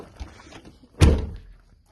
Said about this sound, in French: je ferme bien les portes de la voiture